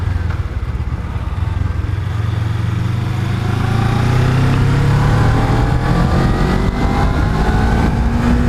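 A Suzuki GSX-R motorcycle engine drones loud and close while riding, its pitch climbing steadily as the bike accelerates, with constant wind rush and no talking.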